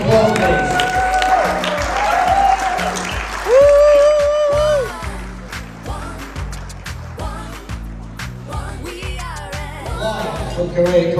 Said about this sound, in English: Large round of applause, please.